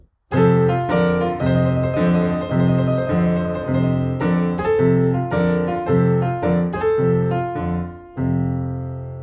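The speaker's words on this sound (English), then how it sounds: "a common technique that lots of blues pianists use are tremolos." Piano plays rapid rocking tremolo thirds in a bluesy pattern, notes shimmering back and forth continuously over several chord changes, loud and close.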